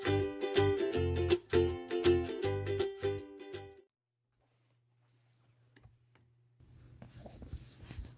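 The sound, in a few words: marker drawing lines on a quilt block with a ruler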